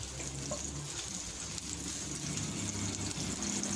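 Onions and garlic frying in hot oil in a pan while making homemade balbacua, a steady crackling sizzle with faint stirring, close and continuous throughout.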